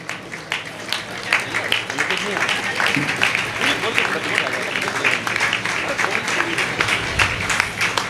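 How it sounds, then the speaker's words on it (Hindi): A hall of people at a Jain community honour ceremony during a 2023 shravak sanskar camp in Itarsi bursts into loud, dense, sustained applause, with some voices mixed into the crowd noise. "जोरदार तालियां चलती रहना चाहिए"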